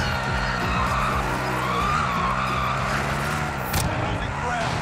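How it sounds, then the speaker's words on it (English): Car drifting with tires skidding in Call of Duty Warzone, a steady engine drone with sliding squeals and swooping pitch changes, heard close and continuous under players talking. "I'm just trying to drift."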